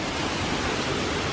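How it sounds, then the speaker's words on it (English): A waterfall at Disneyland Paris gives a steady, close, full rushing roar with no pauses and no voices. "A beautiful waterfall right here."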